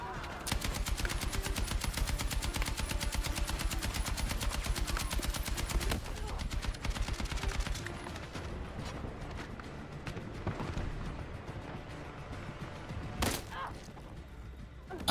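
Rapid gunfire rattles in the video game Mass Effect Andromeda as several snipers fire at once: a dense, fast burst of shots at first, then scattered thuds and a louder crack near the end.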